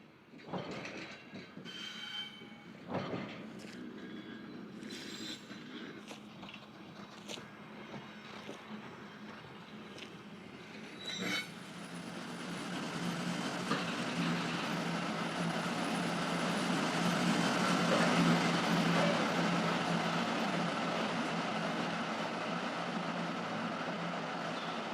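A 2D2 electric locomotive hauls a very long flagship passenger train on a southwestern French line, starting with clanks and knocks, then swelling into a loud continuous rolling rumble as the cars pass close by.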